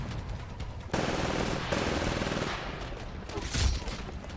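Gunfire in the Titanfall game rattles in rapid automatic bursts, a dense, close chatter of shots that swells to a louder burst near the end.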